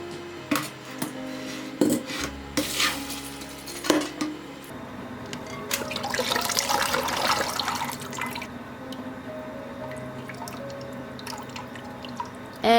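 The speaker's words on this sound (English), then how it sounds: "By straining it this way, that's lifting the beans and putting it into the strainer" Water drips and splashes as soaked black beans are lifted by hand into a strainer, with intermittent trickling, a steady running-water stretch and light clinks of a pot, close and fairly quiet.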